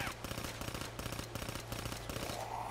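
A machine gun in Call of Duty Black Ops 3 Zombies fires a sustained rapid burst of loud, closely spaced shots with brief pauses, dense and continuous throughout.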